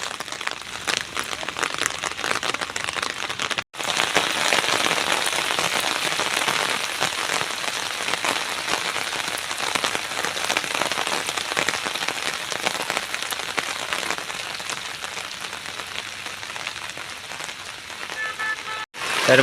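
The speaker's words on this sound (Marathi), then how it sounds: "पावसात भारी वाटतं वातावरण" Steady rain falls on open farm fields, a dense, even patter on surfaces lasting throughout at close range, with two brief cuts and no clear talking.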